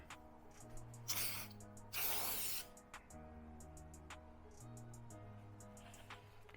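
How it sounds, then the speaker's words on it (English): Two short hissing bursts from an aerosol can of silicone spray applied to car bumper plastics, one brief and one longer, separated by quieter stretches with faint mechanical noise. "now I can spray on the silicone spray"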